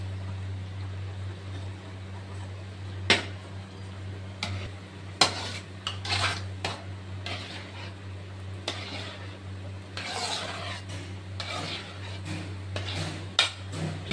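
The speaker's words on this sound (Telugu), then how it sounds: "ఇందులోనే కండెన్స్డ్ మిల్క్ని 50 గ్రాములు వేసి కలుపుకోవాలి." A spoon knocks and scrapes against a pot as condensed milk is stirred into milk payasam, with irregular clinks and light scraping over a steady low stove hum.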